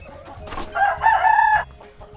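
A speckled Burik hen, past her laying period, gives one short, loud clucking call in her coop, close by and alone.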